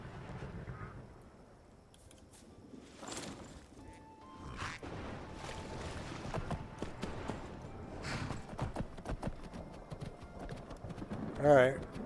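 Horse hooves clip-clop in Skyrim, a steady rhythmic plodding at moderate distance with occasional thumps and a brief louder knock near the end, mixed with other game sounds and a voice.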